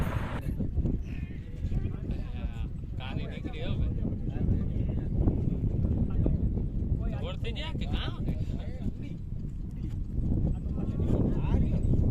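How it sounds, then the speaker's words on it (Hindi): Horses and mares racing in a revaal gait round at a horse race, a steady patter of hoofbeats under crowd chatter and wind buffeting, continuous throughout. "अब शुरू हुआ है बाकी जो बची थी घोड़े या घोड़ियाँ, उसका रेवाल चाल का राउंड"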